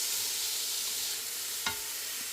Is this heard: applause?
no